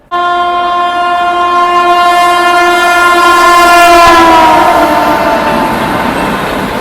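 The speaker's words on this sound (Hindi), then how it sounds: "ये आ चुकी है अपनी मैसूर जयपुर एक्सप्रेस" The Mysore Jaipur Express passenger train arrives at a station, its horn sounding one long, loud, steady blast close by over the rumble of rolling cars.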